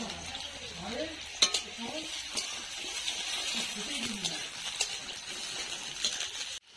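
Potatoes fry and get stirred in a pan, with a steady sizzle and repeated scraping and clinking of the spatula close by, alone without talk.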